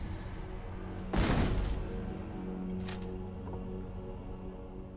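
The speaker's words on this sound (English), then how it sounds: "Could use another cannon shot on it," A booming cannon blast in the fantasy strategy game Age of Wonders III, with a sharp, heavy burst and a rumbling tail, then a fainter secondary impact, all over continuous battle ambience.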